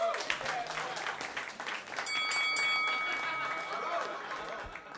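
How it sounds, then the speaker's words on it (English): A roast battle crowd applauds in a steady, dense wash of clapping, with voices and cheering mixed throughout and a brief high whistle-like tone near the middle. "give him a round of applause."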